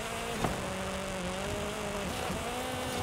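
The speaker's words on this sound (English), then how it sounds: "Engine is singing." A car's engine revs hard in the racing game Forza Horizon 5 on a winter track, a loud, close, steady whine rising and shifting pitch, with a brief knock near the start.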